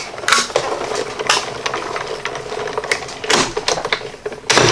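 A manual die-cutting machine cranks a cut plate and die sandwich through its rollers in a single pass, making a steady run of close, loud mechanical clicks and ratcheting rattles with louder bursts near the start and end.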